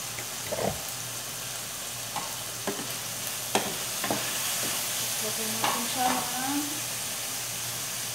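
Chicken pieces sizzle steadily in a hot pan as a splash of soy sauce goes in for a Filipino chicken and tomato dish. A constant hiss with occasional stirring scrapes runs throughout, and a brief voice is heard near the end.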